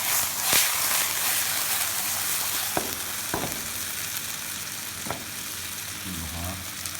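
A stuffed chicken breast sizzles and hisses loudly in a frying pan, a steady close frying roar broken by several scraping clicks as the meat is turned over.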